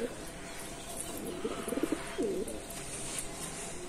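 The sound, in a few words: spotted dove cooing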